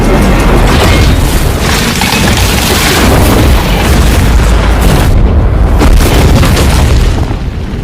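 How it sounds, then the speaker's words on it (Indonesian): A dynamite blast inside a monster's mouth in the Monster Hunter film rolls on as a loud, sustained roaring boom, dense and rumbling throughout with no talk over it. "Wonder Woman itu langsung melemparkan dinamit yang ada di genggamannya ke dalam mulut monster itu."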